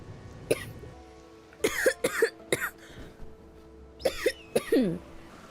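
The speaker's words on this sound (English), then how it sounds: "Oh, I'm just coughing." A woman coughs in a string of separate bursts, some single and some doubled, close and fairly loud against a quiet room, with short pauses between the fits.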